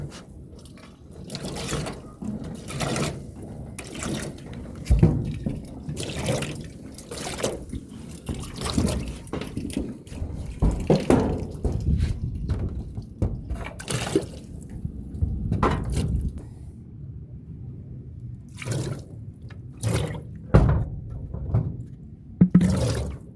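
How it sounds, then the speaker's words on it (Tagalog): Water poured over a freshly resealed leaky roof, splashing and trickling in irregular bursts for a long stretch, with faint scattered background sounds. "Ngayon naman bubuhusan natin para malaman natin kung mayroon pang tulo."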